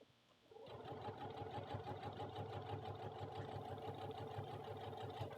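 A sewing machine stitches a small doll wrap skirt, starting after a short quiet moment and then running in a fast, steady, close mechanical whir.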